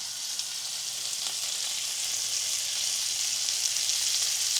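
Butter melting and sizzling in a pan for peanut sauce, an even, steady high crackling hiss with no talk, constant in loudness throughout.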